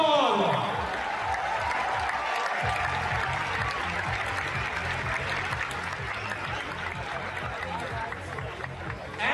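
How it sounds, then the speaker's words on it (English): Stadium crowd at a football event in Mumbai applauds and cheers for Rodrigo, a dense, loud roar of clapping and voices that holds steady throughout, with a low rhythmic beat underneath. "Big round of applause, ladies and gentlemen,"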